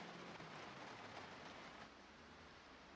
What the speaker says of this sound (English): One of the things that I really love about this game is the rain sound.